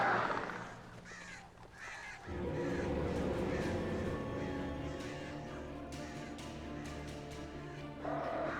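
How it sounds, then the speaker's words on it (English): A flock of crows caws repeatedly in the Alan Wake video game, harsh overlapping calls over a steady background bed, fairly loud and sustained throughout with no speech. "That's a lot of birds."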